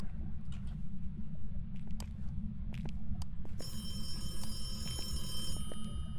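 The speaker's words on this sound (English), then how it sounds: "Where's that phone coming from?" A telephone rings inside the ghost-hunting video game Phasmophobia. Sharp clicks come first, then a bright, sustained electronic ring sets in partway through, with no one speaking.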